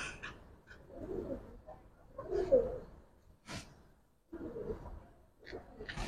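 Giribaz pigeons in a loft give soft, low cooing calls in several bursts, with a few sharper sounds between, fairly close and moderately quiet.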